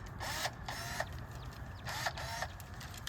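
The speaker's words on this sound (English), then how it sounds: "it's a Craftsman V20 lithium ion clippers" A Craftsman V20 lithium-ion cordless clipper buzzes in repeated short bursts while cutting hydrangea branches, each snip a brief raspy whir, close and moderately quiet with a faint background hum.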